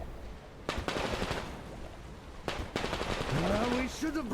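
Gunfire in Metro Exodus, with two short bursts of rapid shots, each about a quarter second long, loud and close, followed by a rising whine and other game sounds over a steady background.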